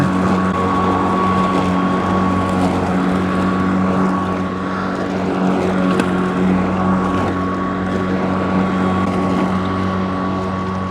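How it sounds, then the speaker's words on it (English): A lawn mower runs steadily while mowing and mulching grass, a loud, continuous engine drone with a steady hum and no pauses. "This might be the last time I have to mow this year."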